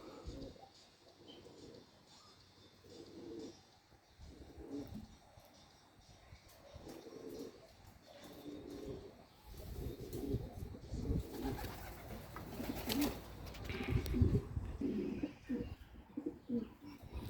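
Homing pigeons coo softly in low, throaty bursts, with occasional wing flaps and faint background noise, growing a little louder toward the end.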